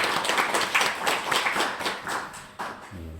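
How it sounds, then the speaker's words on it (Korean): A church congregation at a Palm Sunday service claps for the choir in quick, fairly even rhythmic claps, moderately close. The clapping tapers off and gives way to a low hum at the end. "우리 격려하면서 박수 한번 더 할까요?"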